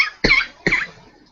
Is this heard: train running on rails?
no